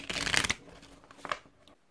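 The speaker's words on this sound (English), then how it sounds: "each player chooses a deck, shuffles it" A deck of Forged Realms cards shuffled in a quick, crisp flurry of riffling, then a shorter second burst before the sound falls quiet.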